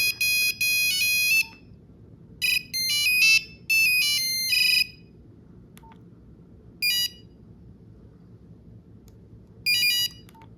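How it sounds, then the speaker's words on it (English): Ringtones play from a new-old-stock Nokia 1260 mobile phone, bright beeping melodic bursts in several separate snippets with gaps of silence between, over a faint low hiss. "Okay, so that's all the ringtones."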